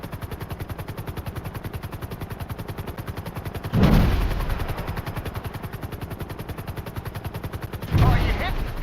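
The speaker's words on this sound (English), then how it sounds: "we're being shot at by missiles." Rapid, sustained automatic gunfire rattles continuously in GTA 5 Online, with two heavy missile blasts breaking through loud and near, one midway and one toward the end.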